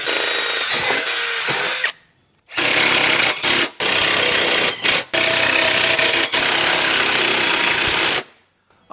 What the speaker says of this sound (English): what I'm going to do now is drill a pilot hole through right here, put some screws in it